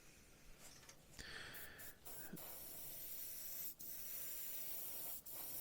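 Airbrush spray hisses in steady bursts as paint goes onto the cab roof of a Hobby Boss Oshkosh HETS scale model, close and fairly quiet, with a few short breaks between passes.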